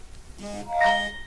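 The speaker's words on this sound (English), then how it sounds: "Sorry about that, that's my phone." Mobile phone alert sounding two short tonal beeps, the second louder and brighter, in a quiet indoor room.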